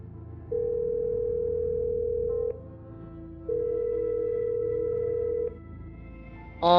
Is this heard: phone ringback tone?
yes